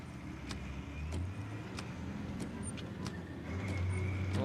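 A car driven in the Dreamcast game D2 gives a steady low engine drone that rises slightly near the end, with faint intermittent clicks and tones over it.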